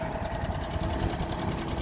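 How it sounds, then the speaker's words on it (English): A John Deere 530 tractor engine runs steadily with an even, rapid mechanical chugging at a plow day with a two-bottom 3-point plow, heard alone without talk. "Got a John Deere 530"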